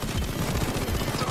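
Rapid automatic gunfire from the video game PayDay 2 on a Death Wish heist rattles continuously in a dense, steady burst with no pauses.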